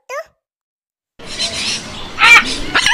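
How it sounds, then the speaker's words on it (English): A parrot lets out a short, shrill call, then a brief quiet, followed by a rougher burst of squawking sounds that rises to a loud screech near the end. "P for parrot."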